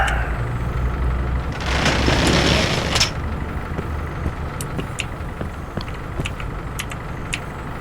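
A fire truck door shuts in the Emergency Call 112 firefighting simulation game, a loud burst of noise lasting about a second, followed by quieter engine idle with sparse ticking and clicking sounds.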